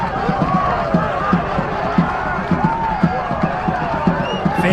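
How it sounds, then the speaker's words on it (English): A rugby crowd at Viking Park cheers and roars as the Vikings are led onto the field for a grand final, a steady wash of crowd noise with scattered shouts and thumps. "We listen to the Vikings crowd."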